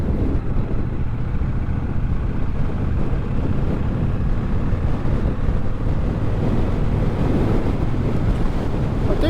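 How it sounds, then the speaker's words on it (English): Strong wind buffets a rider on a motorcycle along a coastal island road. It makes a loud, continuous roaring rumble throughout, with no talking. "God, it is blowy."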